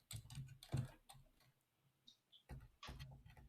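Quiet tapping on a computer keyboard in an office, a few scattered clusters of keystrokes with gaps between, close but faint.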